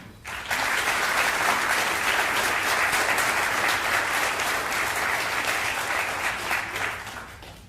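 An audience at a Teacher of the Year ceremony gives a sustained round of applause for the award nominees and finalists, steady and full for several seconds before fading slightly at the end.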